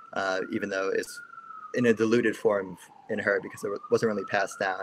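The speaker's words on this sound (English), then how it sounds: "sorry about the sirens" An emergency vehicle siren wails outside, a rising and falling tone that stays steady and fairly loud under close speech from someone talking throughout.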